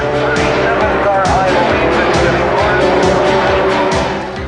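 Loud SCCA Formula 2000 race cars at Riverside, engines snarling with repeated sharp revving bursts and tire noise as the yellow 27 and number 5 tangle in the S's; voices can be heard over the engines.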